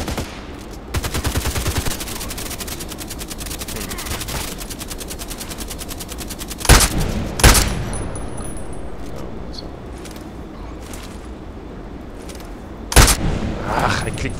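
Gunfire in the shooter game Contract Wars, with a sniper rifle on the map Evac: a rapid rattling burst early on, then three sharp, loud single shots spaced apart, with background noise and faint voices between.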